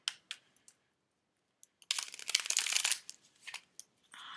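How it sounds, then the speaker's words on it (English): Tarot cards riffle in a quick shuffle during a reading: a few light snaps at first, then a dense crackling burst of card-on-card slapping, followed by scattered softer flicks. "I'm gonna do a quick shuffle just because the cards just keep jumping"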